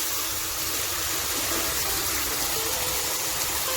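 Water pours into a pan of fish curry with raw mango, mustard paste and green chilli, a steady, close rush of liquid that runs evenly for several seconds without pause.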